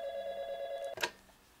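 A cell phone rings with a steady electronic tone for about a second, then cuts off abruptly with a short click-like burst, heard close and alone.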